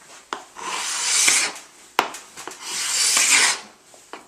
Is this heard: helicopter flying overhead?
no